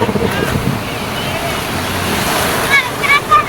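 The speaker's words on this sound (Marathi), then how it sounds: "किती मोठ्या मोठ्या लाटा येते" Big ocean waves surge and wash in at Juhu beach, a steady loud roar of surf mixed with wind buffeting the microphone, close up, with a few faint higher squeals near the end.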